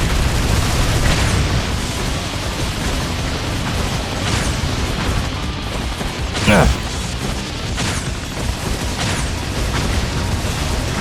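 Boss firing rockets in the Ninja Gaiden 3 action game, a dense, continuous barrage of booming blasts and crashing impacts with sharp bursts scattered throughout a loud chaotic mix.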